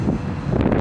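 Strong wind buffets the microphone outdoors during a flight of an FMS G Kemy trainer model plane, a loud, steady roar of rumbling gusts with no talking.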